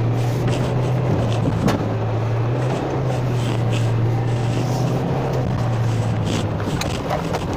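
Heard from inside the cabin, a 2021 Dacia Duster 4x4 with a 1.5 dCi 110 hp diesel engine drones steadily while off-road. A low, constant hum runs throughout, mixed with broadband road and wind rumble.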